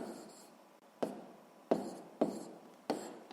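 Pen writing numbers by hand while solving a sixth-grade math problem, four soft scratchy strokes at uneven intervals, close and quiet, with no talk over them.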